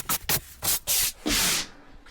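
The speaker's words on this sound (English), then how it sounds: "You have to again sand it." Drywall plaster being sanded by hand for a smooth wall finish: a few short, raspy strokes, then one longer, steady scrape, close and fairly loud, with no talking.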